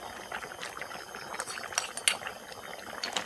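Fish sauce going into a pot of boiling coconut-milk curry with river snails: a steady close bubbling simmer flecked with light clinks of glass and utensils.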